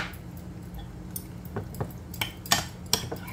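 A spoon clinks against a bowl while yogurt and garlic are stirred, with a series of light, irregular metallic taps growing a little louder toward the end over a faint background hum.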